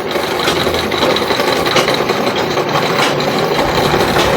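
A sewing machine runs steadily while stitching a sleeve onto a child's frock, the cloth being turned slowly under the needle, giving a close, continuous whirring rattle throughout with no talk.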